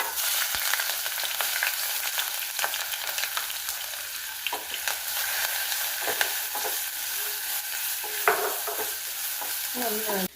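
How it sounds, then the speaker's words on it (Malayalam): Ginger, garlic and green chillies fry in hot coconut oil with a steady sizzle, broken by close scraping stirs of a spoon in the pan. No one speaks. "ഇനി ഇതിലേക്ക് ഇഞ്ചി വെളുത്തുള്ളി പച്ചമുളക് ഇത്രയിട്ട് നന്നായിട്ട് മൂപ്പിച്ച് കൊടുക്കാം."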